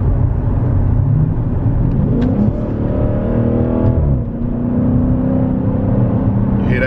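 Dodge Challenger Scat Pack Widebody engine idling with a deep, steady rumble, rising in a couple of brief revs around the middle before settling back, loud and close with no talking.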